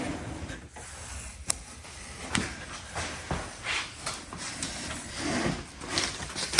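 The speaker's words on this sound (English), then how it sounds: "ASMR painter's tape removal" Painter's tape being peeled off a DIY planter: faint, close crackling and ripping textures in uneven bursts, with occasional small clicks, no voices.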